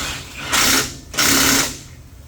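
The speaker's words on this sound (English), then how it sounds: "we're going to tighten up a couple bolts here" A ratchet or hand tool tightening bolts on the rear suspension of a 1972 LeMans fitted with a 9-inch rear end, heard as two loud, close mechanical bursts with a short gap between them.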